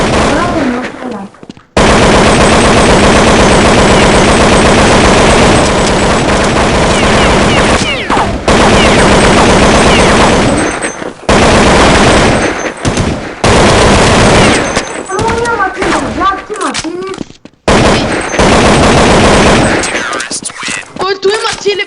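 Loud, nearly continuous automatic gunfire from an online first-person shooter video game, dense rattling bursts broken by a few brief gaps, with players talking over the shooting.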